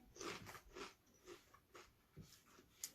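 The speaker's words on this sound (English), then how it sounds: "Crunchy kettle chip." Close, quiet crunching as someone bites and chews a crisp kettle chip, several sharp crunches spaced about half a second apart.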